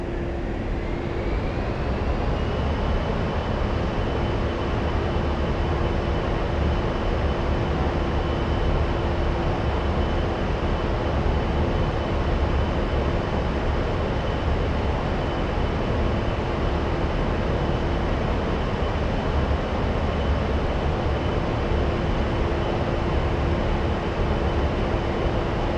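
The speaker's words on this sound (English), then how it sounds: "Now let's accelerate by advancing the throttles back to max." Jet engines of an A-10C II Warthog at max throttle in the DCS World flight simulator, a loud, steady roar with a high turbine whine rising over the first seconds and then holding constant, with no talk.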